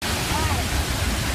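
A waterfall roars in a dense, steady broadband rush of falling water, loud and continuous for a brief moment before cutting off, replayed from a recording with a voice faintly present.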